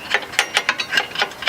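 A ratchet tightens 17 or 19 mm bolts on a rear hub camber bracket of a Kia Forte, giving a quick run of about eight sharp, close clicks at a steady rhythm with no talking.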